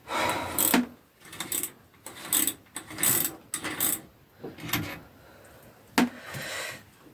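A mountain bike freewheel being loosened with a removal tool, giving bursts of loud ratcheting clicks and metallic grinding in irregular spurts separated by short pauses, close up.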